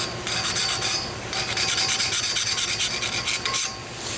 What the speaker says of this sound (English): take a putty knife, and I'm just gonna use the edge. Lightly go over where it's chipped out